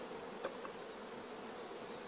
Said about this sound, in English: Bees crowding thickly around the cells is a first positive sign of good acceptance.